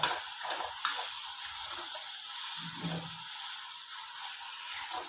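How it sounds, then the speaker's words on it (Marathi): Green chillies fry and sizzle in a pan for peanut chutney, a steady soft hiss with occasional light ticks and stirring clinks, close and continuous without speech. "जरा एक मिनटं आपण अशीच मिरची परतून घेऊ"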